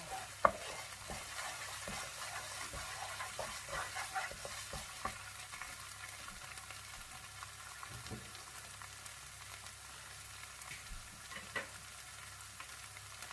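Thai curry paste with fish sauce stir-fried in a pan, a faint, low sizzle under scattered light clicks and scrapes of a spoon moving through the mixture, quiet and steady with no talking.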